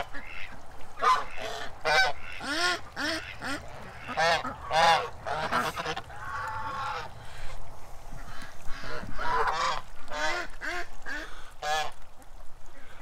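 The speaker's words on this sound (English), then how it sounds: "I'm surrounded by geese." A flock of geese honks repeatedly all around, loud and close, with overlapping calls in an irregular, busy chorus.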